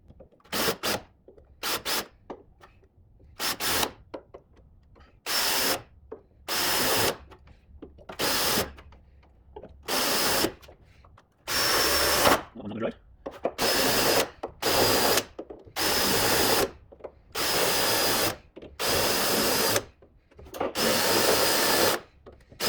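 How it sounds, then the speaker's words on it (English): A power drill whirs in repeated short bursts, drilling out spot welds in a Fiat Punto GT car body, about a dozen spaced across the stretch, with quieter pauses and faint clanks of metal between each burst. "let's start by drilling out a few of these spot welds"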